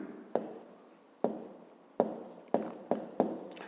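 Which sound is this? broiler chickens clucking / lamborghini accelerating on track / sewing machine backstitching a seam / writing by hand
writing by hand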